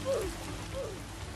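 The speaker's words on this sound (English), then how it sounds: "Come on, rain. Don't ruin our amazing day." Steady rain falls in the Roblox game Bloxburg, a soft continuous patter that stays even and moderately quiet across the whole short stretch, with no other sounds standing out.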